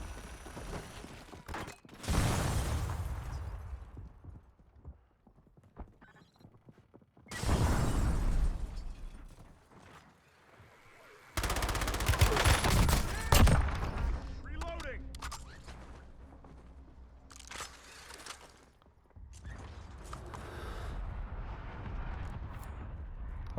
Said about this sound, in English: Look at that echo from the explosions.